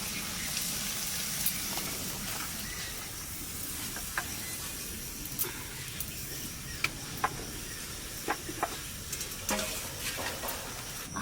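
Chicken frying in a pan for a home-cooked country chicken curry, a steady close sizzle with scattered pops and clicks of stirring throughout, no voices.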